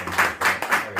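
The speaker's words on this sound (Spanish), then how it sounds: "Y un aplauso." Family applause at a birthday celebration: a short burst of hand clapping in four quick, evenly spaced claps, close and fairly loud.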